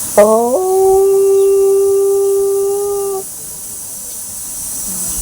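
A voice imitates a pressure cooker whistle with one long, loud, steady howling tone held for about three seconds before it stops.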